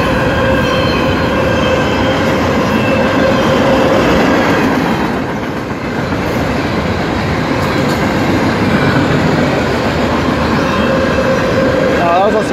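A Norfolk Southern manifest freight train rolls past up close at a road crossing near a station, a loud, steady roar of wheels and rail cars with rhythmic clatter and faint squeal throughout.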